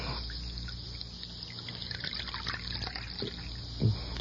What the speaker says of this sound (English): Let me pour you some coffee.